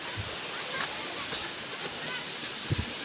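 Continuous rushing of the Wazra Waterfall near Mahurgad, a dense even roar with faint wind buffeting and a couple of brief low thumps near the end.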